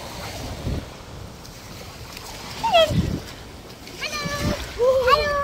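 Children swim at a beach in northern Gaza, with splashing and sloshing water in irregular bursts and steady outdoor wind, while children talk and call out over the water.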